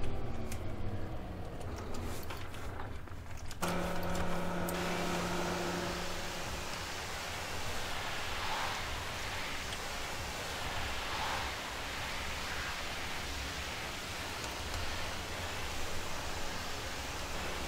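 A pressure washer in Farming Simulator 2015 rinses out a trailer, a steady loud hiss of spraying water running throughout after a brief burst of other game sounds at the start.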